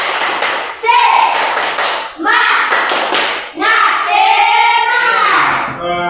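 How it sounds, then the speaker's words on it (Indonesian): Rhythmic spirit clapping by a class in a Catholic religious education lesson, bursts of claps mixed with loud chanting children's voices across several short phrases. "tepuk semangat"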